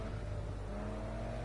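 A touring car races at close range during a Monday night event, its engine a dense, loud, continuous roar through the brief moment.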